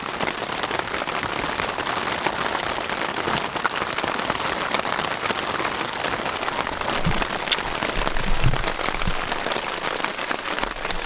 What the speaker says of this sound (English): Wow, it's raining so much now.